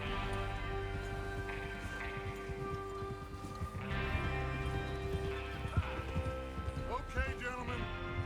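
Horses trot in the Red Dead Redemption video game, their hooves clip-clopping close by with a whinny near the end, layered over a sustained tonal background.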